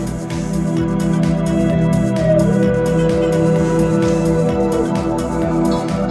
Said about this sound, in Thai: อันนี้คือเสียงเบสนะครับ